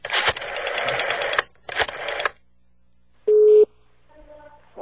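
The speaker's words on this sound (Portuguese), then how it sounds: "vamos ouvir, então, Joshua ligando para Angela Bismarck" A brief steady dial tone sounds as a phone call is placed, preceded by loud noisy bursts and followed by a faint ringing tone with harmonic pulses before a voice begins.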